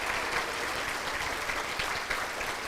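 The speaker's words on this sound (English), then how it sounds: "let's end with one more round of applause for Delaware's behavioral health professionals." Continuous audience applause at a behavioral health professionals awards event in Delaware, a steady, fairly loud clatter of many hands with no speech over it.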